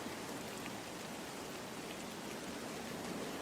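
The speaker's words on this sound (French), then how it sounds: "Seul le vent et la pluie sont entendus pendant plus de 3 heures" Steady rain and wind in an audio drama set in a fog-bound factory, a dense, even hiss of falling water that stays constant and close throughout with no voices.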